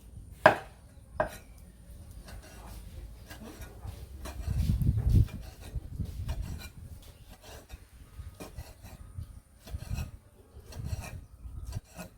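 Chicken meat being cut up by hand, with scattered knife strikes and rasping, scraping strokes on a board, some sharper chops near the start and duller thuds midway, all fairly close and unhurried.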